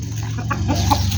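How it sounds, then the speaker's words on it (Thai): A chicken gives a few soft clucks, heard close in an outdoor rural setting over low background rumble, without talk. "ไก่"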